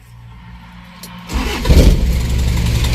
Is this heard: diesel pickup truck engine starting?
yes